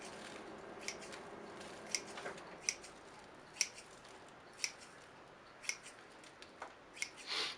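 Shears snipping the roots of a cheap juniper bonsai, a steady series of about eight crisp, close cuts spaced roughly a second apart over a soft background hiss, with no talking.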